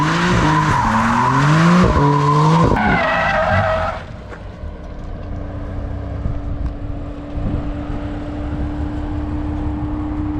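BMW M3 tires skid and squeal loudly for about four seconds during a burnout, with a rising engine howl, then the engine settles into a steady idle hum with faint background noise.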